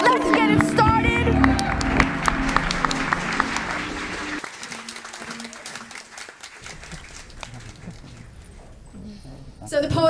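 Audience applause and cheering at a live spoken word poetry event, loud and dense at the start with shouting voices, fading into a quieter murmuring crowd, then a short burst of clapping again at the end.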